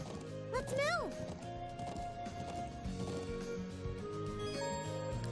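Horse hoofbeats clip-clop steadily during horseback riding in the video game Trails of Cold Steel in the Nord Highlands, mixed with a brief whinny, game music and spoken dialogue.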